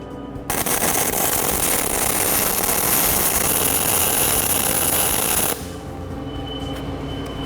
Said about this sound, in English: And now I'll turn it around and weld the other side completely solid.